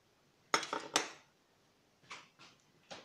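A metal saucepan clatters and clinks a few times nearby, followed by softer knocks of kitchenware being set down.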